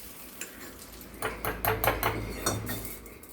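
Metal lid set down onto a pan on the stove after frying urad dal in oil while making raw rice adai, giving a few clattering clinks and a scrape over a low cooking hiss, close and moderately loud.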